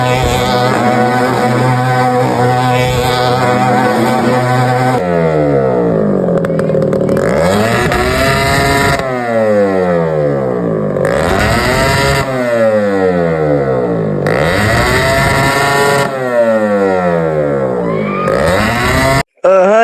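A motorcycle engine revs hard and close during a village celebration, with repeated loud surges that climb and then fall away in steady cycles, filling the whole stretch.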